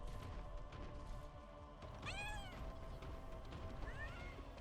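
A cat meows twice, a drawn-out rising-falling meow then a shorter one, faint over steady background game music.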